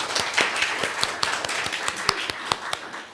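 Applause from a small group at a family Dharma service, a brief patter of hand claps at close range with sharp individual slaps standing out, no talking over it.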